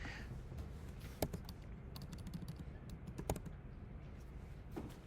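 Quiet typing on a computer keyboard: scattered soft key clicks with a few sharper taps, irregular in rhythm, with no voices.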